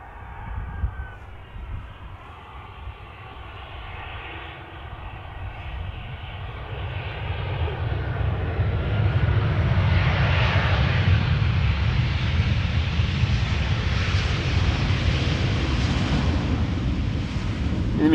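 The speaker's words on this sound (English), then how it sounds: "In the meantime, EasyJet just landed." EasyJet airliner landing at Amsterdam Schiphol Airport, its engine noise building from a distant whine to a heavy, sustained roar that stays loud through the end.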